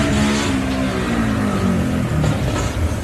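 A Gardner race vehicle at a 4x4 off-road event revs loudly and steadily with a rough, unhealthy exhaust note from an exhaust fault, the engine tone wavering over about three seconds with no talk.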